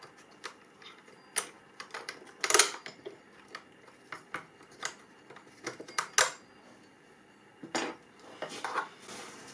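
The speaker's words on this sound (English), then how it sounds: "Get yourself a screwdriver and try and prise it off." A screwdriver prises the oil pump plate off a McCulloch Mac 335 chainsaw, giving an irregular series of sharp, close metallic clicks, taps and scrapes with quiet pauses between them.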